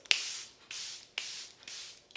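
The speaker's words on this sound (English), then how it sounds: "it's just such a pleasant experience to spray it on" Charlotte Tilbury Airbrush Flawless Setting Spray misted from a pump bottle: four close hissing bursts, each with a sharp pump click, in a quiet room.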